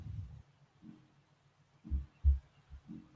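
A heartbeat sound effect from a PlayStation video game, playing through a TV: faint, muffled low thumps in an uneven pattern, some in pairs, heard alone with no voices.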